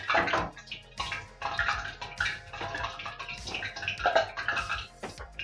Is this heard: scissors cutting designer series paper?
no